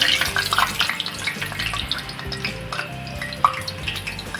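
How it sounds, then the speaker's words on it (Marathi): Wheat-flour coconut puris deep-frying in oil over a medium gas flame, a bubbling sizzle with irregular pops and stirring clinks, fairly loud and close, with no talking. "अशा आपल्या मिडियम गॅसवरच तळून घ्यायचे आहेत मग त्या एकदम खुसखुशी होतात"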